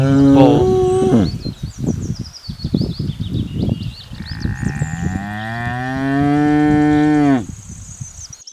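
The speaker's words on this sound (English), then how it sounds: "bull," A bull moos in long, loud, drawn-out calls close by, one after another with rustling between them, while birds chirp faintly in the background.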